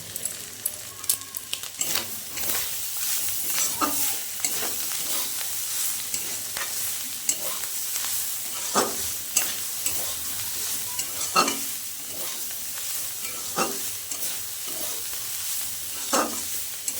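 Mustard greens with prawns fry in a pan, a steady loud sizzle with frequent rhythmic scraping and stirring strokes throughout.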